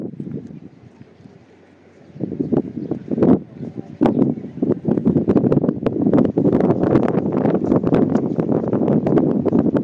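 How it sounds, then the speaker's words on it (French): Strong gusty wind buffets the microphone outdoors overlooking gardens, a low rumbling roar that swells after a quieter start and stays loud and continuous, with a person talking through it. "Bon, il y a beaucoup de vent, je ne sais pas si vous allez m'entendre."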